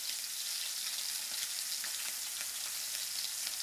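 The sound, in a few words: searing protein in a hot pan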